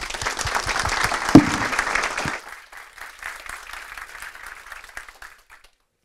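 Conference audience at PyCon SE 2015 applauding a speaker, many hands clapping dense and steady for about two seconds, then thinning to scattered claps that fade out.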